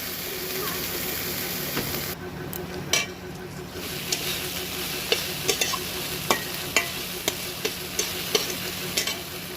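Garlic frying in a pan with ginger and green chili paste just added, a steady close sizzle with sharp clicks of stirring against the pan, for a potol dorma.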